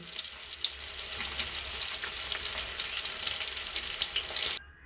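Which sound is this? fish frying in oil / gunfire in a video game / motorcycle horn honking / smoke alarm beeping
fish frying in oil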